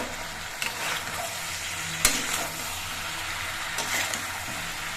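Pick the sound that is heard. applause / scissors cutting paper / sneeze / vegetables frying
vegetables frying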